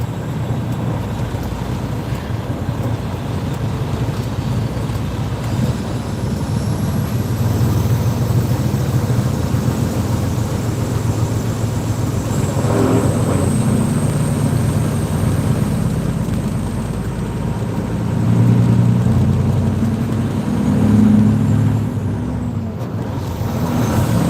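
Small propeller aircraft engine droning steadily and loudly from the cockpit, a continuous low hum with slight swells in pitch, no speech over it.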